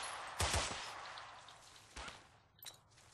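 A few gunshots in the World War II game Forgotten Hope 2, a sharp close crack followed by a quick second shot, then another report and a fainter distant pop over quiet background.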